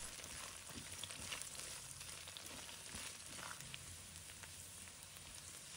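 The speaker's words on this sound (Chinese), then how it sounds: "持续翻炒，直到大蒜微微变成金黄色" Garlic stir-fried slowly over low heat in cooking oil until lightly golden, heard as a faint, continuous, even sizzle with soft scraping, close by with no voices.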